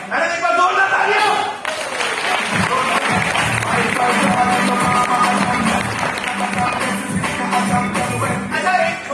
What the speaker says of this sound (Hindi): मैडम एक बार जोरदार तालियां।